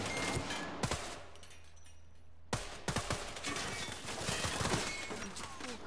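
Sharp gunshots from Sniper Ghost Warrior 3 crack in scattered bursts, one isolated shot, a short pause, then a louder run of rapid fire, fairly quiet overall.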